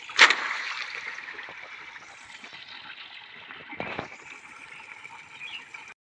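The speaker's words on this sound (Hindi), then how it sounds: "तो फ़िलहाल मैं अभी नहाता हूँ" Water pours and splashes steadily as a man bathes outdoors in a village, with one sharp splash near the start and another heavy pour a few seconds later, the flow continuing throughout at moderate volume.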